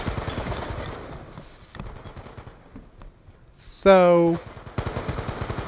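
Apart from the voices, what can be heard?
AN-94 rifle gunfire in a video game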